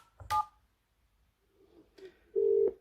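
Keypad tones from a desk phone being dialed, a short dual-tone beep near the start and a longer steady tone at the end, with soft clicks and faint background noise between them.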